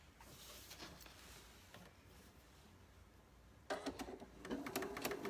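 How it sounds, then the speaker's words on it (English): Quiet room hum, then a sewing machine starts up near the end, running in rapid mechanical bursts of stitching a side seam on a child's t-shirt dress. "I'm going to take this to the sewing machine, and I'm going to stitch right here"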